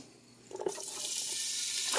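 A sudden burst of loud, steady sizzling as chopped onion hits a hot pot, a broad hiss that continues without letting up.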